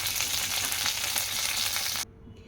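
Mustard seeds, cumin, dried red chilli pieces and curry leaves sizzle loudly in hot oil for tempering, a dense crackling hiss that stops abruptly near the end, leaving near silence.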